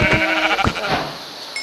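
A Minecraft sheep bleats loudly in the game, one drawn-out wavering call that fades, followed by a short quieter blip.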